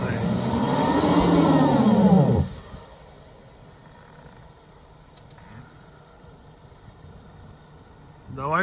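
A Geely Tugella's engine revs hard and close while climbing off-road in the mountains, then drops to a low, quieter idle before roaring up again at the end.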